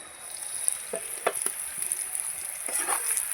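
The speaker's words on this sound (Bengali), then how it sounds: "পেঁয়াজটা দিয়ে একটু নেড়ে চেড়ে নেব" Chopped onions sizzle and fry in a pan, with a few scraping stirs of a spoon cutting through the steady crackle; close and fairly clear, with no voices.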